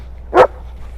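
One short, sharp bark from a dog during a training session, close and clear against a quiet background.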